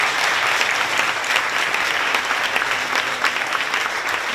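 An audience at a university event breaks into loud, sustained applause, a thick, even patter of many hands close by throughout, with no speech over it.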